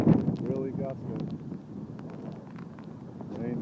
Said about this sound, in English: Big gust of winds here.